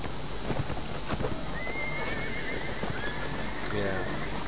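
Horses gallop with rapid clip-clop hooves and repeated neighs and whinnies in a medieval cavalry battle game, loud and continuous under a busy mix of game noise and speech.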